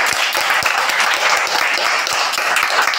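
An audience applauding for Rahul, a contestant who answered 100 questions, with loud, dense, steady clapping and distinct individual claps standing out throughout.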